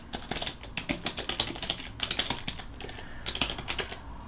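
Rapid, uneven clatter of keys on a computer keyboard as commands are typed, close and continuous with occasional louder keystrokes.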